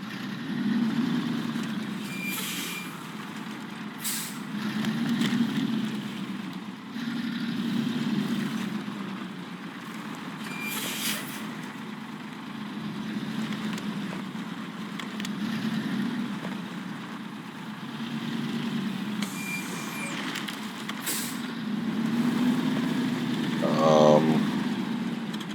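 Heavy truck in the off-road driving game SnowRunner, its engine droning steadily at low revs in slow rising and falling waves, with occasional clanks and creaks from the vehicle, no talking.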